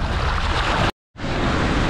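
Big, dangerous ocean waves in the sea off Japan make a loud, continuous roaring wash. The sound breaks off into silence for a moment, then resumes.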